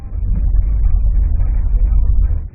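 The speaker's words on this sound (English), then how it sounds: "Going for a car ride by the sound of tires on pavement" Steady low rumble of car tires rolling on pavement during a ride, a continuous close road noise heard alone without any talking.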